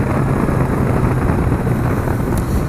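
A fast BMW motorcycle roars along with a loud, constant wash of engine drone and wind rushing past the rider's helmet, dense and unbroken throughout.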